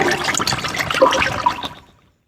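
An oil emulsion is poured into water in a big vessel and mixed, giving a close, splashing, gurgling rush of liquid for about two seconds before it cuts off to silence.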